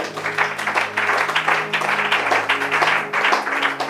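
A church congregation applauds during a Bible teaching on Exodus, with steady, dense clapping that fills the whole stretch at an even loudness over sustained low musical tones.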